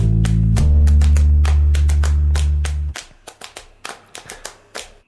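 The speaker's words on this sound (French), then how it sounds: "C'est pour moi ces applaudissements" A TV show jingle with a loud held musical chord fades out, and a few scattered claps follow from a small audience, sharp and close, with no talking.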